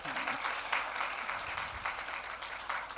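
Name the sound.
applause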